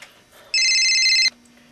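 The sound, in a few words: telephone ringing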